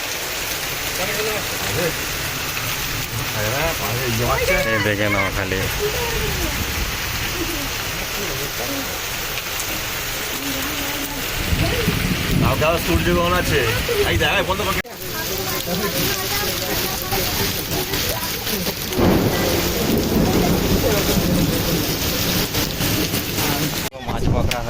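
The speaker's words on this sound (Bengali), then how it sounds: "বিশাল জোর বৃষ্টি এসে গেছে দেখে নাও গাই সকালবেলায় একদম অন্ধকার আর বিশাল জোর বৃষ্টি" Heavy rain pours down on a dark morning in a village, a steady dense wash of drops heard close and continuous throughout while a person talks over it.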